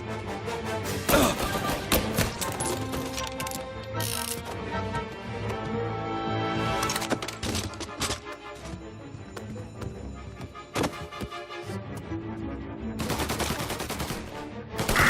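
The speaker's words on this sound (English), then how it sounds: "Gunshots heard. Please respond." Gunfire in the Mafia: Definitive Edition video game, with repeated loud bursts of automatic fire and single shots across a dense, noisy scene, broken by brief pauses.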